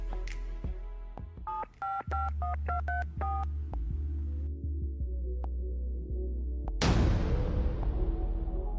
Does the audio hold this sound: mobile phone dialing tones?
yes